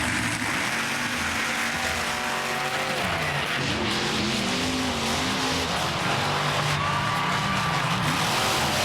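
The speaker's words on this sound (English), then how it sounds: "The first qualifying race of the day is Sudden Impact versus Predator." Monster trucks in a qualifying race roar steadily and loudly throughout, their engines rising and falling in pitch with tire noise, with no voices over the racket.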